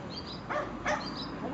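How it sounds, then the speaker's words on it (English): A chained dog barks twice in short bursts at middling distance over a steady outdoor background, with a few faint yips after. "Oh my god, a dog, another dog."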